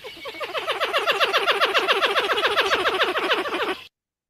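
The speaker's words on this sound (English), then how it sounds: "Really does sound like a laughing hyena." A rapid, chattering run of pulsed calls from a pied-billed grebe, steady and loud for several seconds with a laughing, cackling quality, then cutting off.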